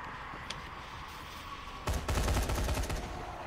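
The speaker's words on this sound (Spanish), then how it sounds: "Se escuchan balazos, güey." Rapid video-game gunfire erupts after a quiet stretch, a dense burst of loud shots and automatic fire that continues to the end.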